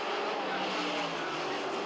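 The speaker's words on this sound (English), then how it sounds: "Alliot, rounding the corner perfectly, gains and goes inside" Loud, continuous roar of Can-Am and Trans-Am race cars at close range at the 1984 Trois-Rivières Grand Prix, a steady broadband drone without pauses.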